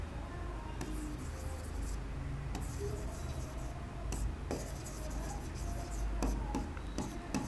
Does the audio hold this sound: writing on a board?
yes